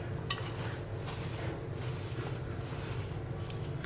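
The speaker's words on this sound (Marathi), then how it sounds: "गूळ व्यवस्थित मिक्स करून घ्यायचंय." Jaggery is stirred into a moong dal ladoo mixture in a pan, a soft, steady scraping and shuffling of spoon on metal with faint clinks, continuous and fairly quiet, no voices.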